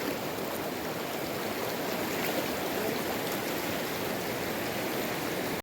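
A river stream with waterfalls flows in a steady, dense rush of water, constant and fairly loud throughout, with no voices.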